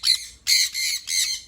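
Sun conure parrots give three loud, shrill squawks close by, each a harsh burst separated by short pauses.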